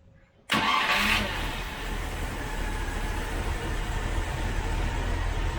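A 1971 Range Rover with a misfire fault starts up abruptly out of near silence, the engine catching at once and settling into a loud, steady idle that runs close by without talk.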